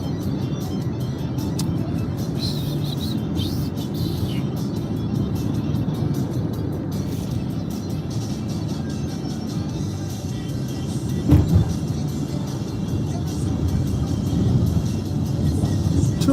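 A car stuck in second gear drives along, its engine holding a steady loud drone with a constant road roar and a brief louder bump partway through, no voices over it.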